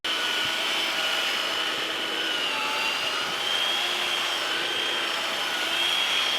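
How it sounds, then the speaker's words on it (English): A blower cleaning dirt off a deck build runs steadily at close range, a loud continuous whooshing roar with a high whine that holds level throughout, no voices over it. "When you're dirty and you need cleaned off, blower."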